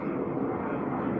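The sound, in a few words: jet airplane flying overhead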